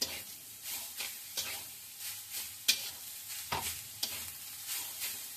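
Coconut and sugar get stirred in a pan over the gas flame, a spatula scraping in repeated sweeps roughly once a second over a soft sizzle, close and fairly quiet.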